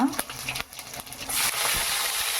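Mustard seeds, urad dal, chana dal and a little cumin hit hot oil for a tempering, then a steady broadband sizzle rises and holds, fairly close, after some clinks and stirring at the start.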